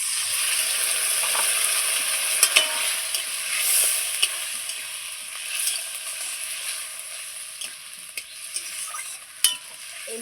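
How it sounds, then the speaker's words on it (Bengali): Spice paste and potatoes stir-frying in a pan, a steady soft sizzle with scattered scraping clicks of a spatula, close and fairly quiet, with no talking. "এই মশলা দিয়েও খুব সুন্দর করে আমি আলুর সঙ্গে আবারও কষিয়ে নেব খুব ভালো করে।"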